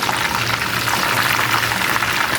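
Chicken leg pieces frying in a pan, a steady dense sizzle and bubbling of hot oil running continuously without any talk.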